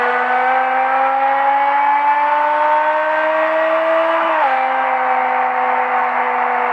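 A 560 hp BMW with an SMG gearbox drives at a steady, fairly loud engine note that climbs gradually, then drops sharply at a gear change before settling into a lower hum.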